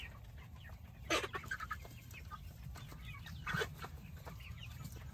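Rhode Island Red chickens cluck nearby in short bursts, with a couple of louder squawks standing out over a steady low background rumble.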